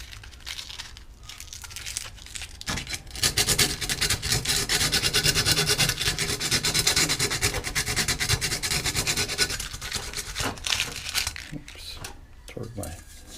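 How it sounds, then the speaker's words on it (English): Coarse 80-grit sandpaper rubs and rasps against the inside of a ceramic teapot, a steady gritty scratching that runs for several seconds, with some handling noise around it. "I'm using some sandpaper now, 80 grit sandpaper, to go in there and make it a little smoother."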